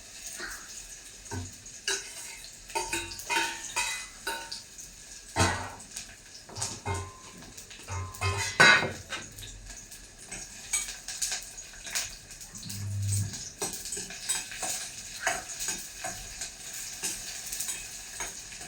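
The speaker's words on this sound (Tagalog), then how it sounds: "So, igisa ko lang itong bawang at saka sibuyas." Garlic and onion sautéing in a small pan, a continuous oily sizzle with repeated rhythmic stirring scrapes and occasional utensil taps, heard close and fairly quiet.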